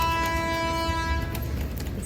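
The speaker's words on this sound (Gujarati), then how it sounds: "આવું કાંક છે ને ટ્રેન આવે છે" A train sounds a long, sustained horn blast at a closed railway crossing, loud and near, then the horn cuts off and the rumble of the passing train continues.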